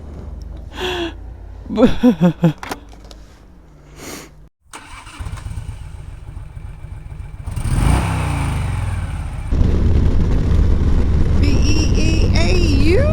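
A motorcycle engine cranks and fires up after some rustling, then idles and revs steadily, loud and close, with a rising whine near the end.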